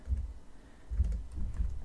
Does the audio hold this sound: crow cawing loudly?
no